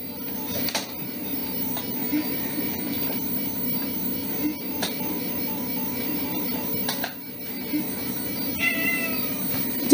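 A house cat meows repeatedly in a living room where an old 1984 laptop is being set up, the calls fairly close over a steady background hum with occasional clicks and knocks.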